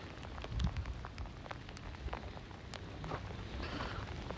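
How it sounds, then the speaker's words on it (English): Sleet mixed with rain falls steadily on a slushy New York City street during a storm, a soft continuous hiss with scattered sharp ticks of icy pellets striking surfaces nearby. "The road's actually slushy right now because we're having so much sleet."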